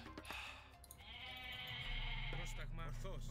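Goats bleating in the Age of Mythology video game during a Norse match, short nasal bleats over game sounds with someone talking throughout.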